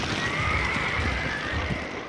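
Wild horses from the western range, a long high whinny drawn out over a steady noisy outdoor background with faint low thuds beneath.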